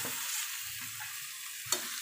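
Goat liver stirred into masala in a pan, a soft hissing sizzle with gentle scraping strokes and one sharp spoon tap near the end, close and quiet.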